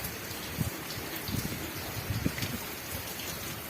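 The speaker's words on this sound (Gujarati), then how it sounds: "સાંજો વરસાદ પાછો ચાલુ થઈ ગયો" Steady heavy rain falling in Kutch, a continuous wash of patter with a few closer drops standing out, no voices.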